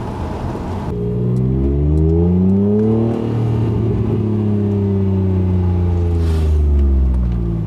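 Very early Honda NSX sports car on an open road, its engine droning loudly and steadily with rising and falling revs as it accelerates and eases off, close and continuous throughout.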